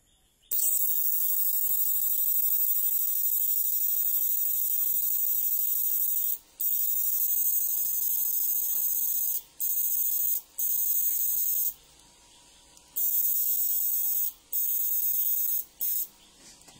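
A homemade fish shocker built with eight 80NF70 power MOSFETs, set to its lowest frequency, gives a loud, close electronic hiss and buzz that runs steadily and cuts out briefly several times, with no voices.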